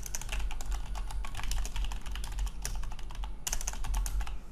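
A computer keyboard is typed on steadily up close, rapid clicking keystrokes in quick bursts with short pauses, over a low background hum and with no voices.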